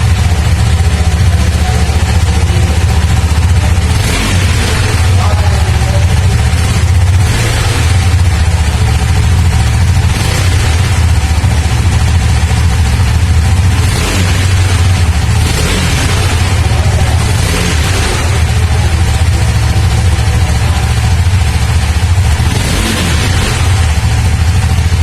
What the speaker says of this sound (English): you need to hear the exhaust note